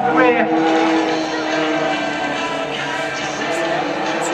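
Two-wheel-drive race cars at Pikes Peak International Raceway, drifting into a hairpin during a June 2011 grand final, hold a steady, loud engine drone with shifting pitch while a commentator talks over it throughout.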